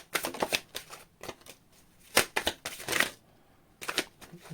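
A deck of tarot cards being shuffled in repeated crisp riffling bursts, close and fairly loud, with short pauses between the flurries and no voices.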